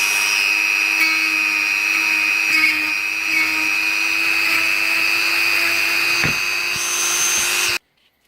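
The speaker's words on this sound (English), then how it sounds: "I've got to do a little bit of milling" A power tool mills a 3D-printed part, a loud, steady high-pitched whine with a constant motor drone and a few scraping knocks. It runs unbroken for several seconds, then cuts off abruptly.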